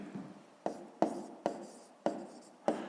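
A pen writes on paper in a math exercise book, making six short scratchy strokes at a steady, slightly uneven rhythm, close and soft with a faint background hum and no speech.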